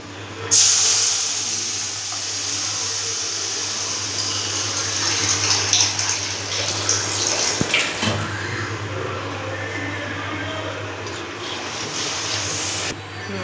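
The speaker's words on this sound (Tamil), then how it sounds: "ஒரு கப் அளவுக்கு ரெண்டு கப்பு தண்ணி ஊற்றிக்கலாம்" Two cups of water poured into roasted semolina for a sweet: a continuous, fairly loud rushing pour that starts abruptly and runs steadily for about twelve seconds over a low background hum, then cuts off.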